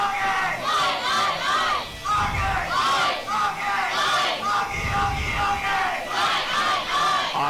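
Fans at a European youth championship bronze medal match between Great Britain and Ukraine chant and cheer loudly in rhythmic waves, a dense crowd roar with drum-like thumps underneath.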